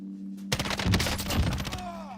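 Gunfire in Call of Duty Warzone: a rapid burst of automatic shots starting abruptly, close and loud for about a second and a half, then trailing off, with no talking.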